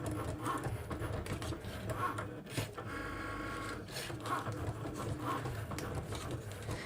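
A Cricut Maker cuts cardstock with a steady mechanical whir and a soft repeated clatter as the carriage moves, fairly close and continuous, with no talking.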